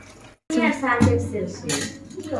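Bottle gourd and snakehead fish curry being stirred in a pot, with clinking metal utensil and pot sounds throughout, close and fairly loud, and a voice speaking over the stirring.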